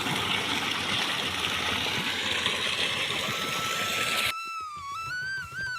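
Water from two running motor pumps on a farm gushes loudly and steadily close by, a dense rushing roar that cuts off abruptly near the end, leaving faint high whistling tones.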